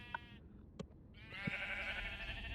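Sheep in Minecraft bleat a few times, short nasal calls near the start and a longer wavering bleat at the end, heard over quiet game ambience.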